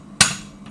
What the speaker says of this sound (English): When you're drawing things out, hammer straight up and down.